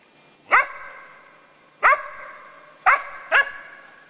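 A five-month-old laika-wolf hybrid hunting dog barks four times outdoors, sharp ringing yelps spaced unevenly, the last two close together, each tailing off into a brief echo in quiet surroundings.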